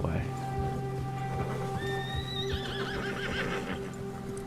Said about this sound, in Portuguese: O cavalo tá com medo.